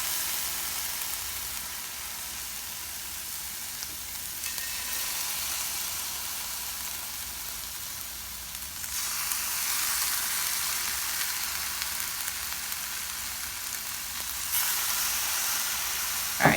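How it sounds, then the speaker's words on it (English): Shrimp sear in a hot skillet for honey garlic shrimp, a steady, moderately quiet frying sizzle that swells slightly partway through and carries on alone without talk. "take one shrimp at a time and place in your skillet"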